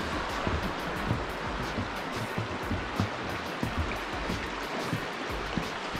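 River flowing along the Chee Dale walk in the Peak District, a steady close rush of running water with gentle bubbling and splashing texture, continuous and fairly loud, with no talk over it.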